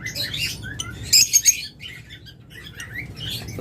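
Lovebirds chirp and tweet in quick bright bursts, several birds calling close together with faint rustling between calls, no talking.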